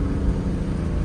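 A car with an automatic gearbox downshifting through its paddle shifters, the engine giving a steady, loud, close-up rumble for about a second with no clear rev spike.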